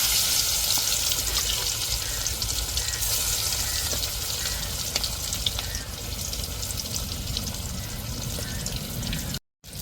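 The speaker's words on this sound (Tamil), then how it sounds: "மீன் துண்டுகளை பொறிப்போம் எண்ணெயில் போட்டு எடுப்போம் வறுத்தெடுப்போம்" Pieces of vaalai fish fry in hot oil, giving a steady, dense sizzle and crackle that runs almost unbroken and close, with no voices, before cutting out briefly near the end.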